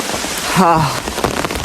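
Heavy rain falls steadily as a dense broadband hiss with a brief tonal sound in the middle, recorded close by outdoors while cycling under an umbrella.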